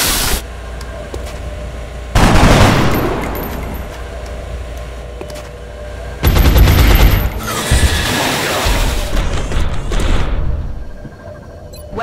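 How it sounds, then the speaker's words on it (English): Loud bursts of automatic gunfire from XCOM: Enemy Within crackle in two heavy volleys, each rattling for several seconds before fading to a quieter ringing tail. "Firing on target position."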